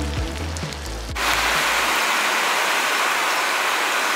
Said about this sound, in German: Es pieselt wieder.